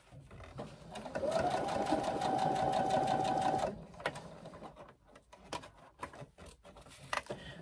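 A sewing machine stitches slowly over zipper teeth, a steady mechanical whirring run of about two and a half seconds, then stops, followed by a few scattered clicks and light handling taps.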